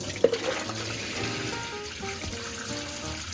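Liquid poured off soaked spruce tips through a strainer makes a brief splash at the start, followed by a steady close pouring and trickling that lasts a few seconds.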